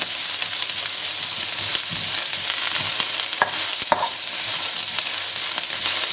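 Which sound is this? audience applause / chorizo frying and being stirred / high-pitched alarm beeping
chorizo frying and being stirred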